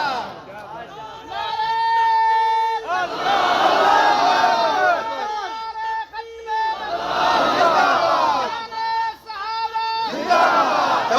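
Large crowd at a religious gathering loudly chanting slogans in unison, repeated call-and-response bursts rising and falling across the clip, close and dense.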